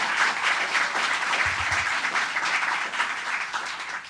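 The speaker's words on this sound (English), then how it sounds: "Let's give him a round of applause." An audience at a teaching award ceremony applauds steadily, a dense wash of many hands clapping at even volume that slightly thins toward the end.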